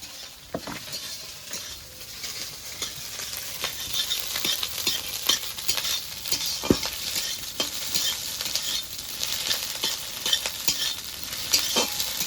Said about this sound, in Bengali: এবার নেড়ে চেড়ে ভেঙে ডিমটাকে ভেজে নেবো